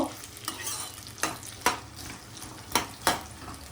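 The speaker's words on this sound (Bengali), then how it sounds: "পেঁয়াজটা একদমই লাল লাল করে ভেজে নেব।" Onions fry in oil in a pan while mutton biryani is prepared: a continuous close sizzle punctuated by about six sharp stirring scrapes spaced roughly half a second apart, with no talk.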